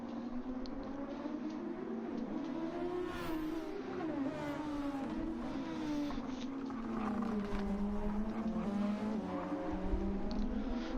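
Racing cars with smoking tyres in Gran Turismo 7, a steady, loud engine whine rising and falling with gear changes, continuous and close.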